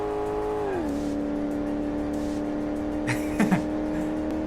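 A classic car's engine revs smoothly and steadily in a car mechanic video game, its tone dipping briefly as a gear shifts, then holding a sustained hum with a couple of brief sharp noises near the end.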